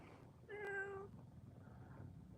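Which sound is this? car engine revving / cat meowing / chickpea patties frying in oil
cat meowing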